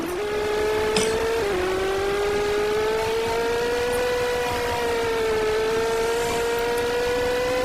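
A car travelling at speed, its engine holding a steady, loud drone with a sustained tonal whine that shifts slightly in pitch, close and continuous without speech.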